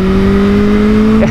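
Kawasaki Ninja H2 motorcycle engine held at high revs, a loud close steady tone that dips briefly near the end.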